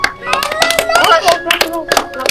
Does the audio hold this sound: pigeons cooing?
no